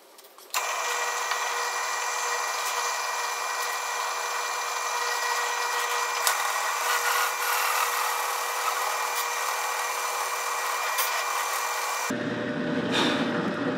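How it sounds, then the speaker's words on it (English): A power drill bores through redwood in a steady, loud whine that holds unbroken for about twelve seconds, then stops abruptly, leaving only faint room noise. "Drilling really nice through this redwood right here"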